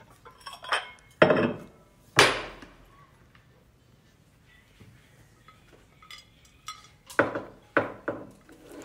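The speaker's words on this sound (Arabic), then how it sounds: "لحظة لحظة خل أشيل الصحون" Plates and dishes clatter as they are cleared from a table after a meal of short ribs, with several sharp clinks and clanks in uneven bursts and quiet gaps between them.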